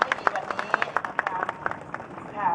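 Applause from an audience at a Thai village rice-merit festival in Nong Song Hong district, a scattered, fairly close patter of individual hand claps with distinct sharp hits that thickens slightly and then fades toward the end.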